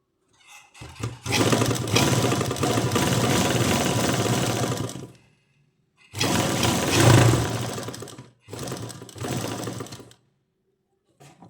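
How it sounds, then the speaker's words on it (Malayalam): Sewing machine fitted with a normal presser foot stitches a zip onto cloth, running in three close, loud bursts of steady mechanical whirring with short pauses between them, no talk. "എന്നിട്ട് നമുക്കൊന്ന് സ്റ്റിച്ച് ചെയ്ത് കൊടുക്കാം."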